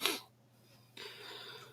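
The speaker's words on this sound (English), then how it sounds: "I sneezed so loud I scared the neighbor's dog into barking at." A single loud sneeze bursts out right at the start, followed by quieter breathing and background hiss.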